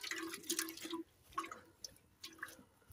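Water dripping and splashing while tomato plants are watered, several short wet bursts and trickles spaced across a few seconds, fairly quiet and close.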